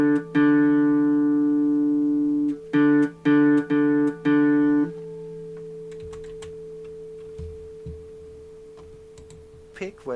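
A guitar string picked by a beginner, ringing as a sustained low note with a few quick repeated plucks, then a softer held tone fading under light background noise.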